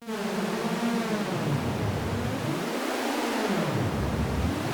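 A sustained, washy synthesizer tone with a long reverberant tail, its low end slowly sweeping down and back up.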